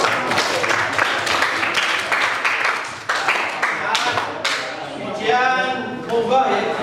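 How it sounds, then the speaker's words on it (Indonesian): Classroom clapping during an Islamic religious education lesson: a short burst of hand claps from students, close and fairly loud, that fades as a teacher's voice takes over. "tepuk tangan kita semua"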